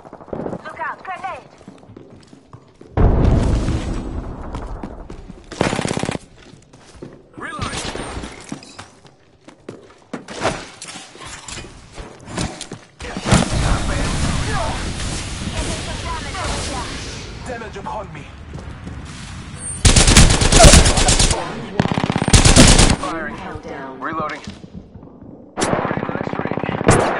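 Rapid automatic gunfire and blasts from an Apex Legends battle, with loud bursts of shooting and grenade-like explosions coming in waves amid game effects and character voice callouts.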